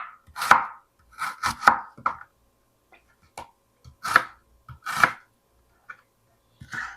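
A knife chops through an onion on a board in short, irregular bursts of crisp, close cuts, some single strokes and some quick clusters, separated by silent pauses.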